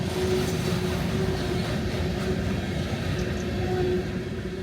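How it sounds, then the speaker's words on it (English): Long coal train rolling past a trackside spot in Colorado, a steady low rumble with a sustained hum, constant and fairly faint throughout. "after standing out here for this long coal train"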